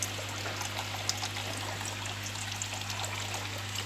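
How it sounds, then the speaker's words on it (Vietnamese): Water trickles and drips steadily in an eel breeding tank system that drips water while also running aeration, a soft continuous flow with faint scattered drops over a low steady hum. "cái này là hệ thống này là hệ thống mà nước chảy giọt"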